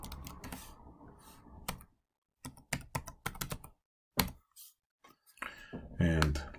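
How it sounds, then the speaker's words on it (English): Rapid bursts of typing on a computer keyboard while entering a cycloid equation into the Desmos graphing tool, with clustered key clicks separated by brief pauses and a voice speaking between the bursts. "So all you have to do is just type this in Desmos."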